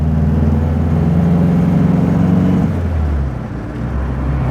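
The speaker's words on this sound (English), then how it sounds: "lovely tractable engine. It's pulling really nicely at lower revs." A 1950s MG Magnette ZB sport saloon's engine pulls at low revs, a loud, steady droning hum from inside the car that eases and drops in pitch near the end.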